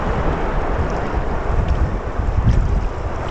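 Wind buffets the microphone during a kayak paddle around Whitefish Point on Lake Superior, a steady broadband rush and rumble filling the whole stretch with no voices.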